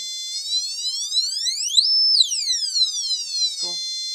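A harsh, high square-wave tone from a sweep generator through a small speaker, sliding up to a piercing peak and back down in a smooth sweep, with a faint voice briefly near the end.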